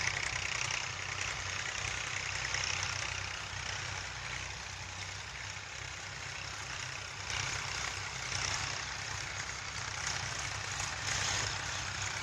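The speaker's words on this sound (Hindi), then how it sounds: "अभी भी गेहूं की फसल पर ट्रैक्टर चल रहे हैं।" Several tractors run across a wheat field, their engines idling and rumbling steadily with a heavy low drone that holds nearby for the whole stretch, with no talk over it.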